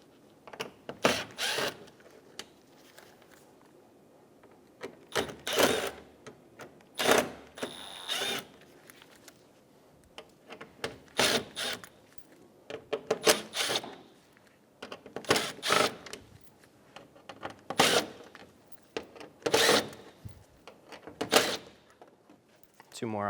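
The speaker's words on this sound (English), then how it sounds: "Using a Phillips head bit, remove all of the screws on the front." A powered driver with a Phillips head bit backs out the front grille screws on a Chevrolet Sonic, giving repeated short whirring bursts at regular intervals with quiet gaps between them, close and clear.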